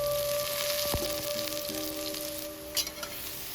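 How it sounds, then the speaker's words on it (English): Eggplant pieces stir-frying in cooking oil in a heated pan, a constant crackling sizzle with a brief knock near the start and a sharper spatter toward the end, close and unaccompanied by talk. "Stir fry the eggplants until it gets very soft."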